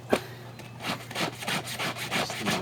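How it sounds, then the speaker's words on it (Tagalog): A scrubbing brush works over garment seams and a collar to lift grime, giving rhythmic back-and-forth rasping strokes, close and steady, about eight strokes alone with no talking. "kailangan ayusin ang pagbabras dito sa mga pinagtahian para matanggal ng libag, ang dumi"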